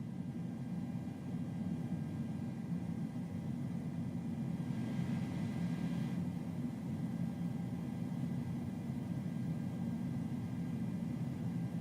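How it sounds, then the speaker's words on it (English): A steady low engine drone and airflow rush from a plane taking off in Microsoft Flight Simulator 2020, constant and moderately quiet with no break in tone and no talking. "let's take off straight out"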